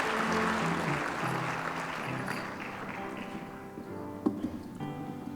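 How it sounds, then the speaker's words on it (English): An audience at a student award ceremony gives a round of applause for Sterling Merit Award winners, moderate clapping that fades gradually before a few scattered claps and taps at the end. "Another big round of applause for all of our recipients of the Sterling Merit Award"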